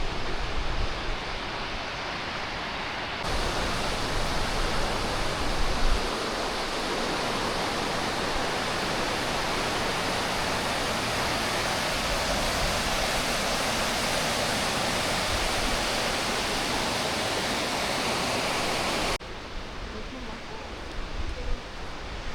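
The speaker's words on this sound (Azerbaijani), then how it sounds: "Ne güzel şəlalədir." Steady, powerful roar of a waterfall in Qusar, Azerbaijan, broad and continuous, filling the whole stretch without letting up.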